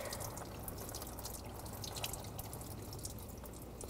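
Coolant drains from a 2011-2015 Chevy Cruze into a drain bucket during an oil filter housing replacement, a quick, steady patter of drips splashing close by with no voices.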